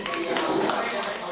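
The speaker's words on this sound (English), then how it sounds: "Screams, tears of joy. and applause filled the classroom" Students clapping and cheering in a classroom on receiving their secondary school placement results, with dense crowd noise, excited voices and screams blending into a steady burst of applause throughout.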